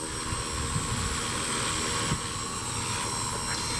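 Helicopter hovering during a beginner flight lesson, a constant loud rotor and engine drone with a high whine, steady and unbroken throughout.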